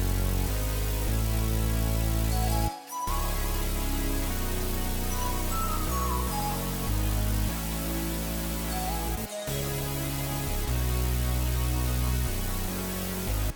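Rage-style trap beat made in FL Studio, all parts playing together: dense buzzy synth leads over heavy sub bass and drums, loud and continuous, with two brief dropouts where everything cuts for a moment.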